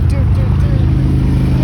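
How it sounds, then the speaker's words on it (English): Motorcycles rumble past on a road through mountain scenery, a loud, low, continuous engine roar close to the listener that holds steady throughout, with wind buffeting the recording. "we got some motorcycles coming. It's gonna be a little noisy."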